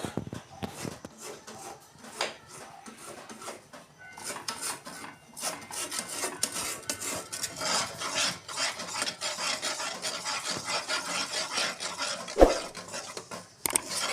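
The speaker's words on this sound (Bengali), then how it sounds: "এটা ভালো করে নাড়তে থাকবে, যেন তলায় লেগে না যায়" Thickening milk stirred in a pan for homemade khoya kheer, a steady scraping and rasping of the spoon against the pan bottom, continuous and fairly close, with no voices.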